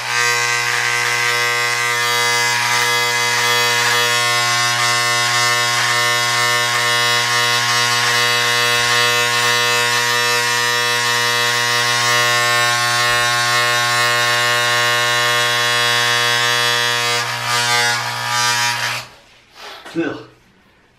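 An electric shaver buzzes steadily and loudly up close while shaving off a two-week-old beard and mustache, its constant droning hum running unbroken before cutting out near the end, with a few faint sounds after.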